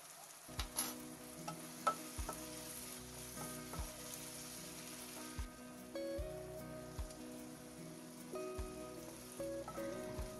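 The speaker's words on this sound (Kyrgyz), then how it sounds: "10 мүнөттөй күчтүү отто кууруп алабыз" Fried lagman cooks in a pan over high heat with a continuous, close sizzle and intermittent scraping clicks from stirring; no one speaks.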